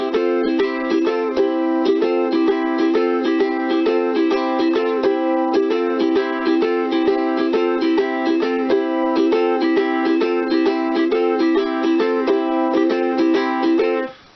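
Rock and roll ukulele strumming in a brisk, steady rhythm, with the first down strum dropped every other bar, bright and close, played alone for about fourteen seconds.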